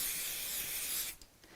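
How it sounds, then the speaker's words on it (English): Repositionable spray adhesive sprayed onto the back of scrap fabric, a quiet, close, continuous hiss lasting about a second and then cutting off. "I'm just going to put some repositionable spray adhesive on the back of here."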